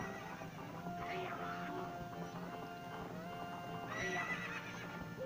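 Two horses neigh and whinny over galloping hooves in the video game Zelda: Majora's Mask. Repeated whinnies sound close over a steady clip-clop, and a player talks over them.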